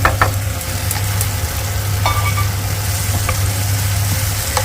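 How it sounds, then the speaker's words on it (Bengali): Potatoes fry in oil with onion and green chilli in a pan, giving a steady, close sizzling crackle with occasional sharper pops and stirring, and no voices. "আলুটা তো পুরো ভাজা ভাজা হয়ে গেল"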